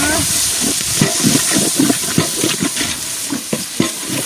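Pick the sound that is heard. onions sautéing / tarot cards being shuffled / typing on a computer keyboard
onions sautéing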